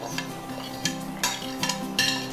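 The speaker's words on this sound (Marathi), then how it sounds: "मोहरीचा आवाज येतोय बघा तडतड देण्याचा" Mustard seeds and cumin crackling in hot oil for a Maharashtrian potato bhaji tempering, a continuous close sizzle with sharp pops and spoon scrapes recurring every half second or so, and no voices.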